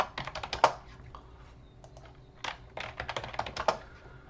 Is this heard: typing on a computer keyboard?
yes